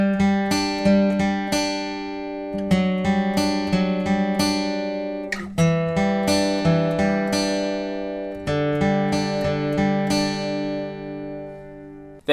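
Acoustic guitar plucking the arpeggiated chord pattern of a song, individual strings picked in a steady rhythm with chord changes, clear and close, no voice.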